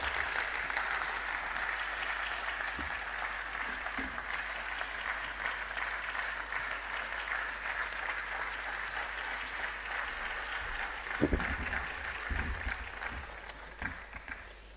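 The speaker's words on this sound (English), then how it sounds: "Please keep clapping until she gets to this podium." A university audience at an annual lecture claps steadily as the vice-chancellor walks to the podium, a long even wash of applause with a few louder knocks and bumps near the end.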